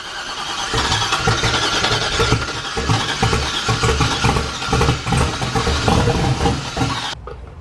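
A turbocharged LS truck engine fitted in a Corvette, running on its first start and revved hard, with a loud, rough, continuous roar close by that drops off sharply at the end.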